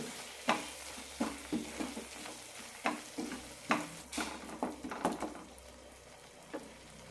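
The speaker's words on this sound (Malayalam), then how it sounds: "ഓരോ ടേബിൾ സ്പൂൺ വീതം കാശ്മീരി മുളക് പൊടിയും സാധാരണ മുളക് പൊടിയും ഒരു ടീസ്പൂൺ മല്ലിപ്പൊടിയും നന്നായി വഴറ്റാം" Kashmiri chili powder, regular chili powder and coriander powder sautéed in a pan for a tomato curry: a soft sizzle under a run of close spatula scrapes and taps, busy at first, then thinning out, with no voices.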